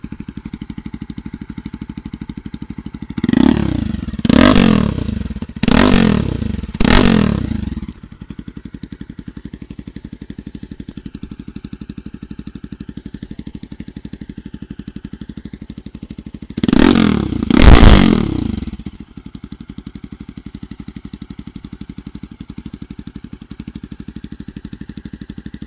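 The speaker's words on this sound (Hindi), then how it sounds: "जैसे कि आपने बाइक की एग्जॉस्ट नोट सुनी" A Jawa 42 motorcycle with a loud modified exhaust revs in four quick blips, then idles with a deep burble before one more strong rev near the end.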